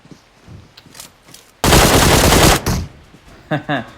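A loud, dense burst of automatic gunfire lasting about a second rings out in a PUBG match on the Sanhok map, followed by a few quieter shots and clicks.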